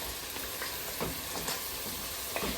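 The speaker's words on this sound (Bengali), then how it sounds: "এখন এগুলো কষানো হোক" Steady frying sizzle of bottle gourd (lau) curry being sautéed in a pan, a close, even crackle with a few faint stirring scrapes and no voices.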